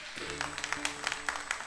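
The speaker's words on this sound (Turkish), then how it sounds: "Alkışlar gelsin." Brief scattered clapping from a small audience, with quick irregular claps over sustained musical tones.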